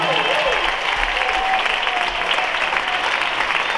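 Dense, continuous applause from a concert audience for a Puerto Rican salsa orchestra's show at Lehman College, loud and even throughout, with faint voices mixed in underneath.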